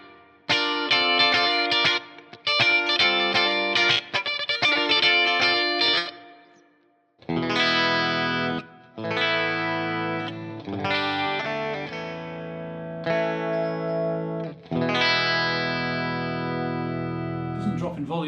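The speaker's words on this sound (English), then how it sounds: "has quite a nice single coil type tone" Clean electric guitar chords and picked notes from a vintage Arbiter Les Paul-style guitar with split-coil pickups, ringing out with a bright, thin single-coil twang, played in separate phrases with short gaps, close and loud.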